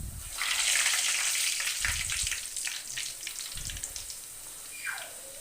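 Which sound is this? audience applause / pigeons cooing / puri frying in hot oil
puri frying in hot oil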